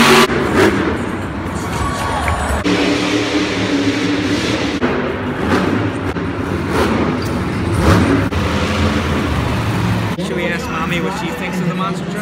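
Loud monster truck engines roar and rev in repeated surges over a noisy crowd at a monster truck rally, with cheering and thuds mixed into the dense din.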